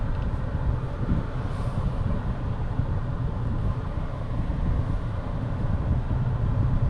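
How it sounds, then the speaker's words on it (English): Brakes grinding on a Hyundai that sat unused for years, heard during a short test drive as a steady, loud rumbling roar with a continuous harsh low grind throughout. "Brakes are grinding pretty good."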